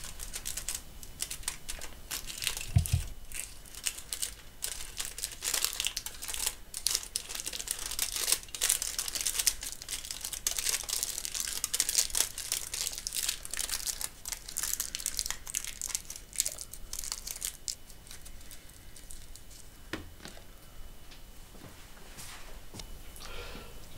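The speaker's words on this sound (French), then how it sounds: "on enveloppe une de ses extrémités sur 4 ou 5 cm avec du papier d'aluminium" Aluminium foil being wrapped and crumpled around a fabric wick for a drip-irrigation bottle: continuous close crinkling and crushing for over twenty seconds, with occasional sharper taps and no talk.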